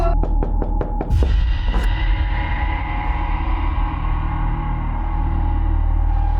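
Someone knocks on a closed bedroom door with a quick burst of about five raps, then two heavier thuds, all loud and close over a sustained dramatic drone.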